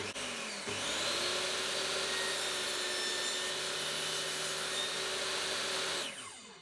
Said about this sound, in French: Le premier trait de scie vient d'être effectué.